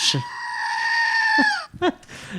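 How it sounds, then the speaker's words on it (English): A screaming goat toy lets out a long, loud, wavering bleat-like scream, followed by shorter squeals and a brief human voice nearby. "we are also joined by the GOAT. The screaming goat."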